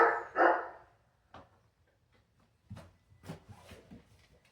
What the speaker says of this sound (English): Good girl, Piper. Good dog